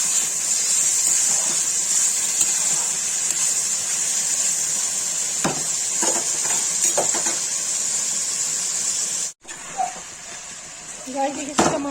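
Onion, salt and garam masala gravy being stirred in a pan for white chicken korma, giving a steady close sizzling hiss with a few spoon scrapes while a voice talks throughout.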